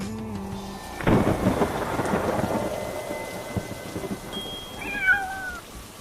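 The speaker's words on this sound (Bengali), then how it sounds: "বাজ পড়ছে আর আওয়াজ হচ্ছে" Cartoon thunderstorm: a sharp, loud thunder crack breaks in after a quiet moment and rolls into a long rumble over steady rain, with a cat's meows rising near the end.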